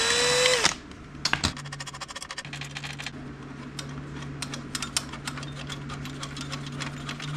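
A power tool backs screws out of a circuit breaker on a Yixiang DIY battery kit V2: a brief whine at the start, then a steady low motor hum with a fast buzzing rattle and scattered clicks, close by.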